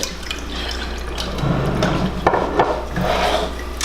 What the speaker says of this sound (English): We're swishing, we're swishing. I'm standing in my kitchen and I'm swishing.